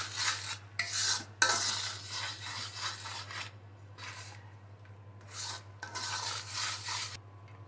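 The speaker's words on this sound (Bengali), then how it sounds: "কষাচ্ছি।" Olive pickle spices, including white and black mustard and vinegar, being stirred and fried in a pan, with rhythmic scraping and rubbing strokes of a spatula that come in bursts with brief pauses, over a low steady hum.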